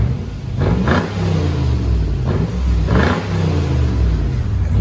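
Lexus GX 470 4.7L V8 with muffler delete, idling with a deep rumble and then revving in several short bursts, close, loud and raw.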